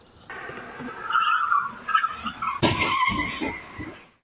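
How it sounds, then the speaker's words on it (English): Stolen car crashing head-on into a police cruiser in the middle of the night, caught on a doorbell camera: an engine and tire noise rising, then a sudden loud impact followed by rattling debris and a lingering rumble. "He ended up smacking into the officer's cruiser head on."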